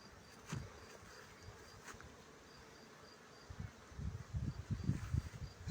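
Honeybees buzz inside a beehive, a faint steady drone broken by soft knocks and rustling that grow busier toward the end.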